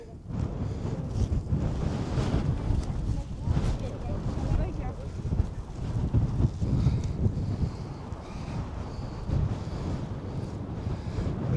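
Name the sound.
wind blowing on a Tatra mountain ridge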